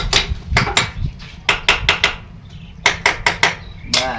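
Someone hammers on a motorcycle part in a workshop, sharp irregular metallic knocks in short bursts of two to four blows with brief pauses between them.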